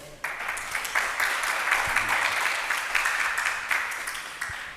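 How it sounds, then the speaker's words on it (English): An audience claps for the speakers at the close of an academic conference session, steady applause that rises quickly and holds at moderate volume for about five seconds, with no talk over it. "And let's applaud for them."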